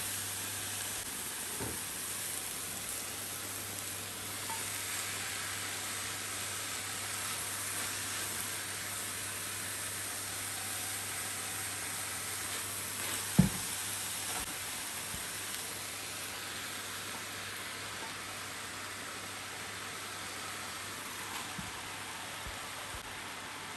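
Vegetables frying in a pan for a vegetable pastilla, a steady hissing sizzle held close throughout, broken once by a sharp knock midway, with no talking.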